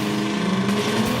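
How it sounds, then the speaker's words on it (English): Two drift cars running door to door at Redstar Raceway during a Supadrift round, with a steady loud engine drone and a low harmonic hum, continuous for over a second. "Door to door, mirror to mirror, tidy drifting between these 2 stalwarts."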